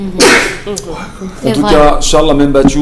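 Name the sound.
sneeze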